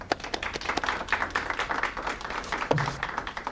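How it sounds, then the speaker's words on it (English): Audience applause in a hospital gathering, a steady patter of many hands clapping at moderate level, slightly distant, with a brief low thump near the end. "Please give yourself a round of applause."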